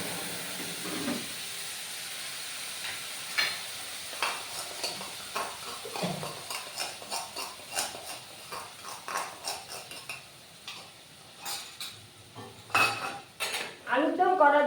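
Aloo dum masala paste frying in oil as it is stirred, a faint sizzle under a long run of rhythmic scraping and clinking of a metal spoon against the pan, growing busier and louder toward the end.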